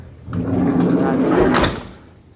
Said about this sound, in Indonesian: Untuk pintu kita tes ini, pintunya enteng, gak ada yang kocak